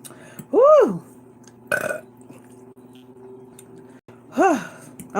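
Loud, close burps after drinking Pepsi: two long drawn-out belches, one near the start and another near the end, with a short breathy gasp in between.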